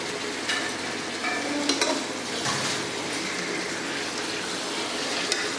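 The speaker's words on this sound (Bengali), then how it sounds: "এই যে এখানে মাংস ঘাটাঘাটি চলছে" Spicy meat being stirred and fried in a pan during a room picnic cooking session, a continuous sizzle with scraping utensil strokes and a few sharper clinks against the pan, close up and with no talking.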